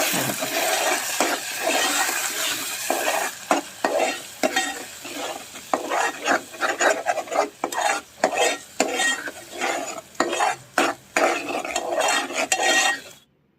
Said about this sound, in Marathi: आता हा मसाला सगळा तेलात फ्राय करा